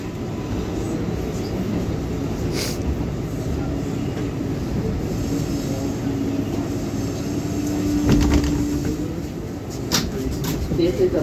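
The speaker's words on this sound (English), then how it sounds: "This is a Bronx-bound 6th local train" An R142A New York City subway 6 local train runs on the tracks, giving a steady, loud rumble of wheels and car noise, with a faint whine rising near the end.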